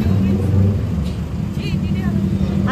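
Motorcycles pass along a road, a loud, continuous engine rumble with rising revs running throughout, with voices talking over it.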